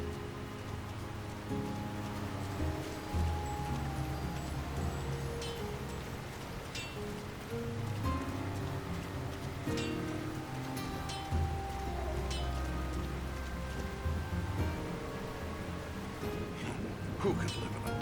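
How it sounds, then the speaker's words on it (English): Steady rain falls over the town of Bree in Lord of the Rings: War in the North, a continuous patter under game music and voices. "Who could live in a town where it's always raining?"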